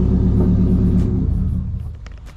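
A 2018 Subaru car engine tuned to roughly 800 horsepower idles with a loud, heavy low rumble that holds steady, then begins to fade as it is switched off.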